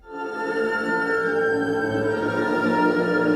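A Pendleonium, the first Sounddust hybrid instrument, rings out in a rich sustained drone of layered steady tones. It swells in quickly and holds at an even, full level with no speech.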